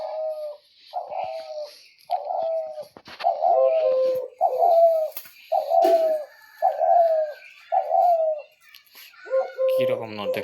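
A dove repeating its soft, hollow coo about nine times in a steady rhythm, each call close and clear, with brief pauses between and a faint rustle near the end.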